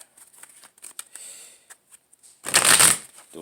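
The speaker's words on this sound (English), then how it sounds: "So let's shuffle these cards." Tarot cards shuffled by hand in short soft riffles and taps, ending in one louder, fuller riffle near the close, quiet and close-up.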